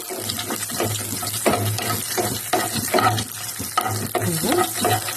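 Eight green chillies fry in a pan, stirred with repeated scraping strokes over a continuous close sizzle, with a watery bubbling texture underneath.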